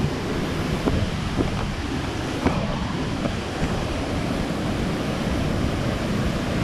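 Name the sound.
Li Phi (Somphamit) waterfall rushing water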